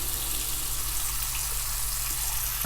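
A hot water tap runs into a sink while a drain clog is tested with Drano Max Gel, giving a steady, close rushing stream that holds level throughout.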